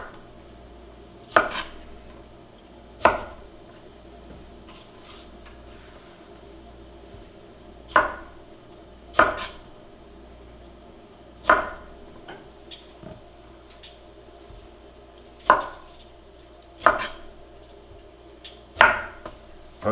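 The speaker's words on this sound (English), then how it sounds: "Now with these limes, before we juice them, we're gonna cut them." A knife cuts limes in half on a cutting board, about nine crisp, separate knocks spaced irregularly over a quiet background.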